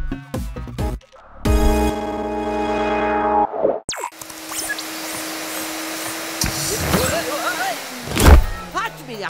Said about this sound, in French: je passe juste l'aspirateur